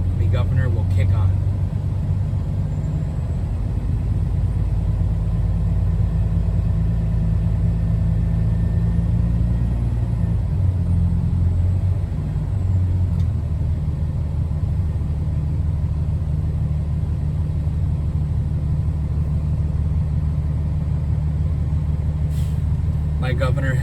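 A truck engine is held at about 1,000 RPM in the cab while the air governor builds brake pressure, producing a steady, loud, low rumble that shifts slightly partway through and then carries on unbroken.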